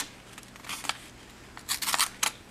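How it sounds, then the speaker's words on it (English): A Gerber MP400 multi-tool knife blade drawn through material in a cut test, giving several short scraping, crunchy strokes in two clusters, close and fairly quiet. "Now I'll do a quick cut test with the knife."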